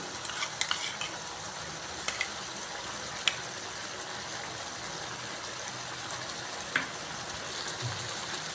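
Cream going into a simmering vegetable kadai as it is stirred: a steady low sizzle with soft scraping and occasional light clinks of a spoon against the pan, close and even, with no voices.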